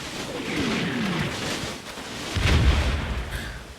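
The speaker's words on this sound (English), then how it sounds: "I think our artillery is dropping, yeah, just outside of them." Artillery shells land in the WWII game Combat Mission: Battle for Normandy, giving a couple of rumbling impacts and a heavier low boom partway through over a continuous noisy battlefield background, with no talk.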